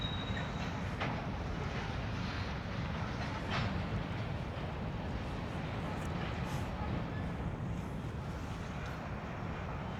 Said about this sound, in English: Looks like this is the last of the train right here.